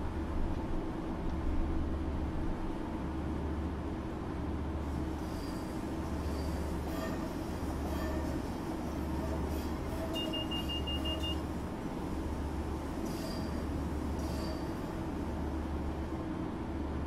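A CSX genset locomotive runs on the North Jersey Coast Line in the Train Simulator 2016 video game, a steady rumbling engine drone with rhythmic pulsing and occasional faint beeps, no voices.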